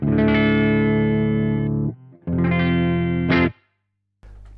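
Thick, distorted electric guitar chords on the bridge pickup through an Engl Savage Special Edition high-gain amp ring out loud and sustained, cut off, then strike again before stopping, leaving a low hum.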